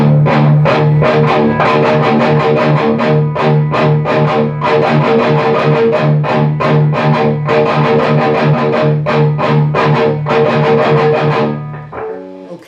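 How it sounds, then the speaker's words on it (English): Heavy distorted guitar chugs rapidly on the low 6th and 5th strings in a tight, driving rhythm, loud and close, then cuts off with a brief ringing tail. "the first one's just going to be chugging on the 6th and 5th string"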